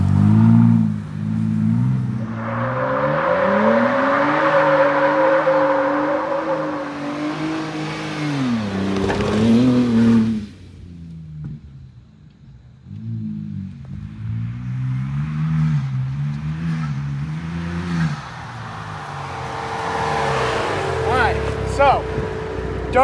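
Ford Bronco Raptor doing donuts and burnouts, its engine revving loud and close in long swelling waves that rise and fall in pitch, with a brief quieter lull halfway through before the revving returns under some rough scraping noise.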